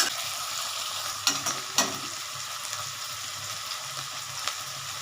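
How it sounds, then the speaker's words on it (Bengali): Onions and potatoes fry in a pan, a steady close sizzle with two distinct spatula scrapes early on and a lighter knock near the end, no voices. "আমার পেঁয়াজটা আলুটা অনেকটা ভাজা হয়ে গেছে"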